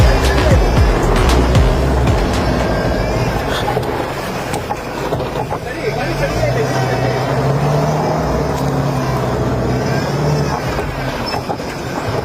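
A car drives along steadily with a continuous rumbling road and engine noise, rattles and clunks over bumps, and a voice talking at points underneath.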